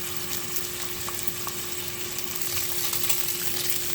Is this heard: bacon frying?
yes